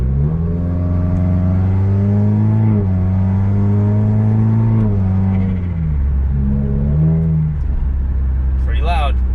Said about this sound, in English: you can hear how the exhaust sounds